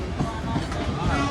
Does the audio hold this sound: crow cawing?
no